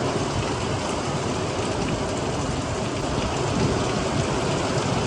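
Steady, heavy night rain in Surat pours down continuously, a dense hiss of drops with a low rumbling undertone, no voices.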